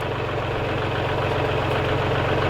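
A heavy tractor engine idles steadily nearby during hog skinning, a low rhythmic chugging throb that stays even and loud for the whole moment, with no voices.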